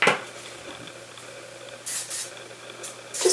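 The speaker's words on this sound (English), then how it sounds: "just a light little bit of spray just to keep those curls" Memory mist hair spray hisses from a nearby bottle in short bursts, one at the start, a pair in the middle and another near the end, styling curls on a bob haircut, with quiet room tone between sprays.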